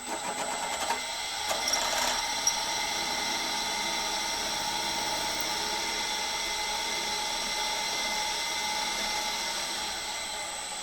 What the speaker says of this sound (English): Now I'm going to drill and tap it M12